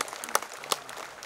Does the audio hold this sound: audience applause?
yes